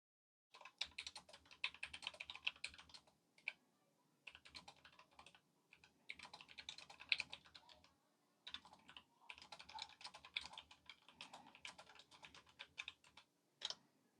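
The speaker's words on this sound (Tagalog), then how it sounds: "Atong paminawon ang sound ani nga keyboard." Typing on a Logitech MX Mechanical Mini keyboard with red linear switches, rapid close clicking in several bursts separated by short pauses, with no talking.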